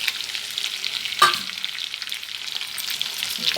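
Chana dal, urad dal, cumin, mustard seeds and curry leaves sizzle steadily in hot oil for a tempering, with one sharp pop and some stirring.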